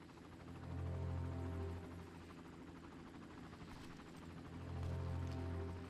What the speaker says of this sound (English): I can hear the sound of helicopter and yet I see nothing